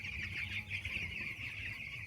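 A dense flock of 11-to-12-day-old poultry chicks in a shed keeps up a continuous, high-pitched peeping chorus, with low shuffling underneath and no speech.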